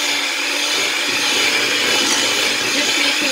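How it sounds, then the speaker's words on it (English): An electric mixer stirs sweetened condensed milk with a steady, loud whirring hum that runs without a break, close by. "we're just going to stir up the sweetened condensed milk"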